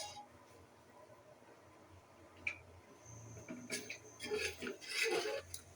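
Spices being stirred and sautéed in a cooking pot for beef tehari, a quiet background with a spoon scraping and clinking against the pot, growing busier and louder toward the end.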